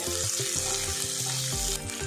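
Ginger and green chili fry in a pan, a close, steady sizzle over low clattering and tonal kitchen sounds for about two seconds.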